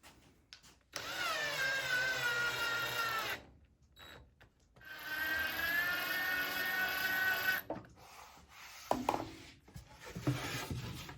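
A power drill drives screws into a table saw sled, two long whining runs several seconds each separated by a pause, close and clear, followed by shorter clicks and handling noises.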